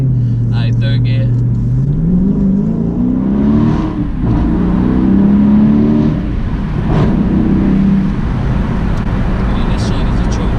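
A 2017 Dodge Charger Daytona 392 accelerates in third gear, its engine tone climbing steadily in pitch with a loud, close rumble, while people talk over it inside the car.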